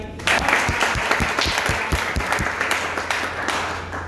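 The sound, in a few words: audience applause for the singer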